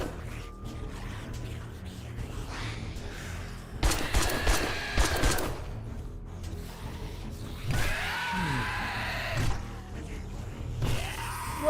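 Bursts of gunfire in the zombie survival game 7 Days to Die, loud clustered volleys around the middle and later stretches, mixed with gasps and shouting over a busy game soundscape.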